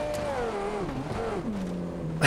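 Video game car charging at full speed into other cars during a burnout-style crash, engine tone sliding downward steadily over a sustained roar, ending in a sudden loud impact burst.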